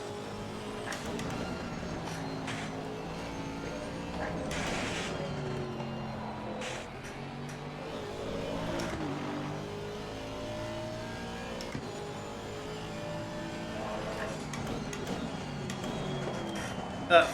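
Bentley race car in Assetto Corsa Competizione during Suzuka 12-hour testing, engine revving and shifting through gears with sustained harmonic drone, steady and fairly loud, with talk over it.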